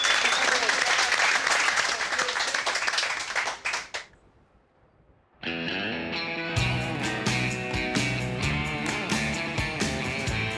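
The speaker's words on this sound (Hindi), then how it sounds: "तालियां तालियां।" A crowd claps loudly before a song in a dubbed drama, the dense applause cutting to near silence before music with bright sustained tones starts up.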